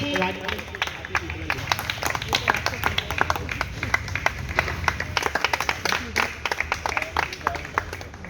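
Audience clapping at a party outreach meeting, many hands tapping in dense overlapping bursts throughout, with a voice speaking over the crowd.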